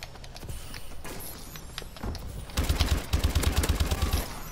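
Rapid automatic fire from the Pytaek with Loophole attachment in Call of Duty: Advanced Warfare multiplayer, with scattered shots and then a loud, sustained burst of close gunfire toward the end.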